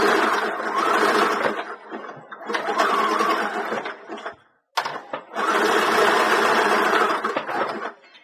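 A sewing machine runs a zigzag stitch around a DIY fabric ice pack heart, a steady close whirring in three long bursts, the middle one ending in a brief silent pause.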